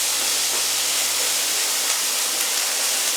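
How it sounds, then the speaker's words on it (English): Vegetables fry in a pan for a ham and vegetable pasta, giving a steady, dense, loud sizzle that holds unchanged throughout with no voices. "So the idea is to fry them off"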